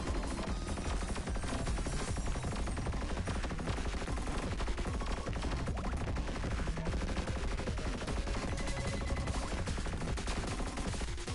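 Rapid, dense gunfire from the twin-stick shooter Tachyon Project blasts without pause, loud and continuous with no talk over it.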